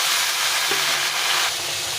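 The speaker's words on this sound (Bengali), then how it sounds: "এখন লাউটাকে কেটে রেখেছিলাম, লাউটাকে দিয়ে দিই।" Chopped bottle gourd hits hot oil already holding three green chilies, giving a steady, fairly loud broadband sizzle that holds evenly with no voices.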